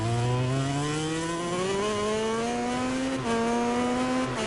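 A MotoGP motorcycle engine in MotoGP 19 revs high and steady during a wheelie at Spielberg, its pitch climbing smoothly with a brief dip before rising again, loud and close throughout.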